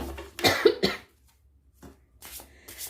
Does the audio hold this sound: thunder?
no